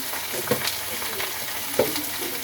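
Spices with ginger-cumin paste sauté in a hot pan, giving a steady close sizzle with a few light scrapes and stirring clicks throughout.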